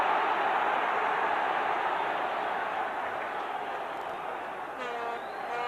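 A football home crowd at Norwich City versus Manchester United roars in a steady, broad wash of noise that fills the stadium, loud and continuous, easing only slightly toward the end.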